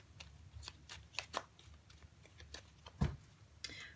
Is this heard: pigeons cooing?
no